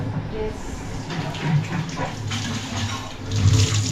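Water bottles being rinsed under running water at a home tap, a continuous splashing gush with bursts and clatter, fairly close, while someone talks over it.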